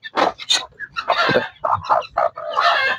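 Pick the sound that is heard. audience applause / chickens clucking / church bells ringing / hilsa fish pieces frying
chickens clucking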